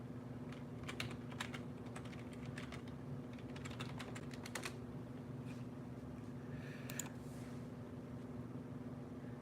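Keystrokes on a computer keyboard during a live stream come in quick bursts of soft clicking, then short pauses, quiet against a constant background hum.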